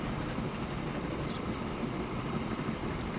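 Trains run along a railway in Transport Fever, set in 1850, giving a steady, close rumble with clattering wheel noise that stays even and unbroken, alone with no talk.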